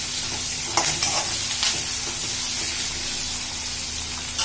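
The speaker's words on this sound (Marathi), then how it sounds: "चांगलं परतून घ्यायचं बटाट्यांना थोडा गोल्डन ब्राऊन कलर यायला पाहिजे" Potatoes are sautéed in a pan until golden brown while making a vegetable pulao: a steady close sizzle and hiss runs throughout, with a few scraping stirs of the spatula near the start.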